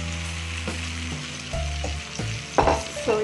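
Egg and vegetable omelette mixture fries in hot oil in a pan, giving a steady sizzle with a few short scraping stir sounds. It is close and moderately loud, and no one speaks.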